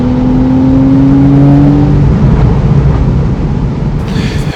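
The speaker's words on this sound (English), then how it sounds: "this is the last of the Porsche 911 that are naturally aspirated, that has the direct fuel injected Boxer 6 engine" A naturally aspirated, direct-injected flat-six in a 991.1 Porsche 911 Carrera S convertible drones loudly and steadily at close range, its tone shifting slightly as it runs, with no talking over it.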